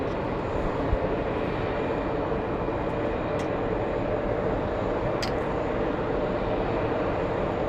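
Qatar Airways aircraft moving at JFK airport, a steady broad engine roar at a distance, continuous and even throughout.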